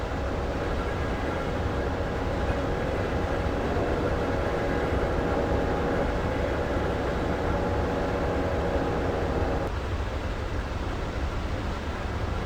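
Steady rumble and hiss of a Pennsylvania Railroad passenger train with mail cars running on the line in winter 1965, continuous and fairly loud throughout, with a slight change in tone near the end and no talking.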